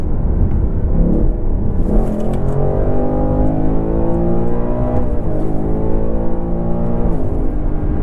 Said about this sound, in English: All American V8, baby